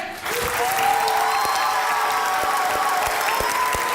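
A studio audience claps to welcome a sports journalist onto a talk show, a steady dense burst of applause rising quickly and holding, with a faint tonal note beneath.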